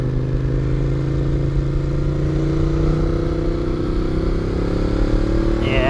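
A 2014 Ducati Monster 821 in touring mode pulls up through the revs, its engine note a loud, steady drone that climbs smoothly in pitch, heard up close from on board.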